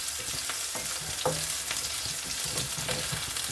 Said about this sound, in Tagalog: at ang aking uunahin ay sibuyas. May konting mantika na siya.